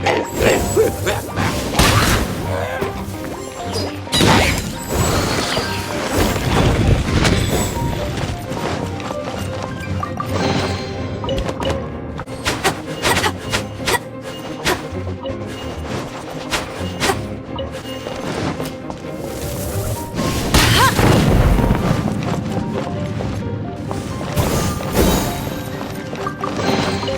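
Explosive puppet berry bunny blasts in Genshin Impact come as repeated heavy crashes and thuds amid busy combat clatter across a long stretch, with louder bursts clustered near the start and again later.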